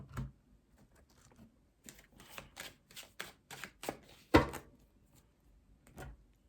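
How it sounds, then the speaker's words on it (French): A deck of oracle cards is shuffled by hand in a series of short, crisp riffling and slapping bursts, close and fairly quiet, with gaps between strokes. "je mélange les cartes de cette façon"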